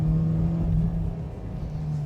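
A 1992 VW Scirocco Mk2 GT2 pulls hard through first and second gear, its engine note strong and steady with a brief dip at the shift, loud and close with no voices.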